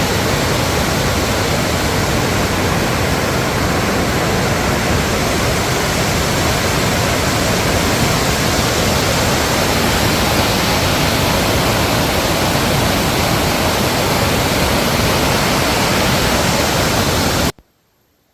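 A swollen mountain stream in monsoon season rushes past as a loud, unbroken roar of torrential water that fills the whole clip before cutting off abruptly at the end.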